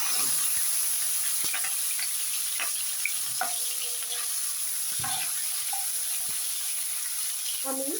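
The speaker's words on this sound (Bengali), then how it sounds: "এখন আমি আগে ছুরি শুটকিগুলো দিয়ে দেব, কারণ ছুরি শুটকি সিদ্ধ হতে একটু সময় লাগে।" Dried ribbonfish shutki fries in hot oil in a pan, giving a steady loud sizzle with occasional sharp ticks and pops from stirring.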